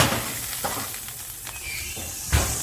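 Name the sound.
pork belly skin crackling after roasting in oven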